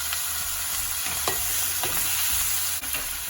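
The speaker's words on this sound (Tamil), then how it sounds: "இப்போ தும்மங்காயம் போடுறேன் அதோட கருகப்பிலைய சேர்க்குறேன்" Snake gourd with onion and curry leaves stir-frying in a pan, a steady close sizzle with a few scraping stirs breaking through, no voices.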